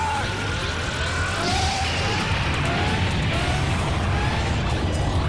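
Super Vegeta's Big Bang Attack in the fighting game DBZ Budokai 3, a dense, loud explosive roar with crashing impacts and sweeping whooshing tones, sustained throughout with no talking.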